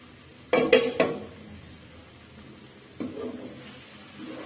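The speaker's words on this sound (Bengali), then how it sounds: "এখন ঢাকনা দিয়ে আমি এটা এখন কষাবো।" A metal lid lands on a pot of cauliflower egg curry with a quick cluster of bright clanks and clinks, followed a couple of seconds later by one softer knock, then a quiet kitchen hum.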